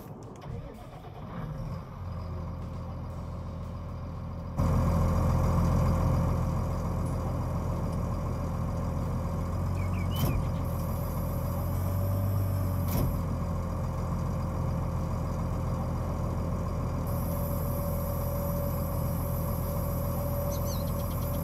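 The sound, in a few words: tractor engine running with cultivator, from video game Farming Simulator 19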